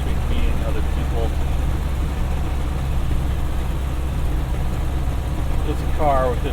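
A 1931 Ford Model A Coupe fitted with a Bert's block drives along on a fall road, its low engine drone steady and close, with a voice speaking briefly over it.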